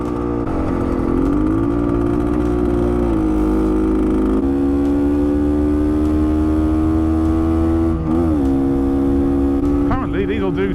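A Bultaco Alpina 350 motorcycle ridden on a road at about 36 mph, with a loud, steady engine drone that shifts pitch slightly as the throttle changes. A rider talks over the engine noise.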